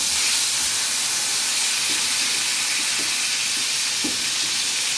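Beef short ribs sear in a hot pan with a loud, steady, close sizzle and hiss, a constant crackling texture with a few small pops and no talking.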